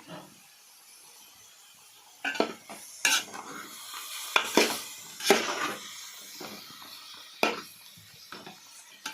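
Duck fry masala being stirred in a pan, giving a run of scraping, clattering utensil strokes against the metal with a faint sizzle underneath, heard close and without talk.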